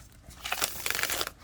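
Tarot cards being shuffled, a quick close burst of crisp riffling and slapping card noises lasting about a second, with no talk over it.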